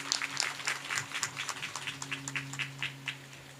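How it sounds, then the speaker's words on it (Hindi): An audience at a religious katha gathering claps to welcome a guest, a moderate patter of hand claps in a steady rhythm that fades slightly, with no talk over it. "हमारे प्रदेश अध्यक्ष डॉक्टर उमेश कुमार का तालियों से स्वागत करिए"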